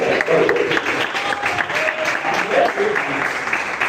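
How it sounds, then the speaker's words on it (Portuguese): Church congregation clapping, loud and close, with steady dense applause mixed with crowd voices and cheering throughout. "Palmas de vitória."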